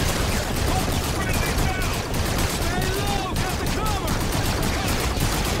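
Rapid, dense gunfire from Call of Duty: Infinite Warfare, continuous bursts of shots filling the whole stretch, with someone talking over the action.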